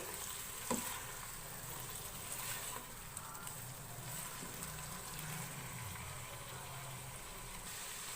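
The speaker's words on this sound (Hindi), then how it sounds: "गोश्त को लहसुन अदरक के साथ 1 से 2 मिनट हाई फ्लेम पे अच्छी तरह से भून लेंगे।" Pieces of meat fry with garlic-ginger paste in a pan over a high flame, a faint, steady hiss and sizzle with a few soft stirring knocks.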